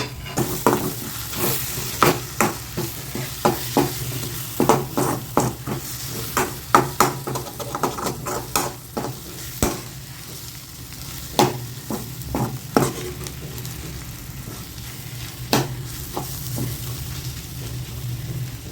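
Capsicum egg poriyal being stirred in a pan, a steady low sizzle under repeated scraping spatula strokes that come in irregular bursts, close and moderately loud.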